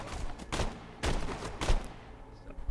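Borderlands 2 gunfire, including a marksman rifle, comes as three or four separate sharp shots spaced about half a second apart, moderately loud with a booming low tail on each.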